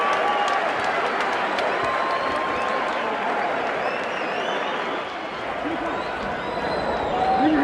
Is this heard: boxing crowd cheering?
yes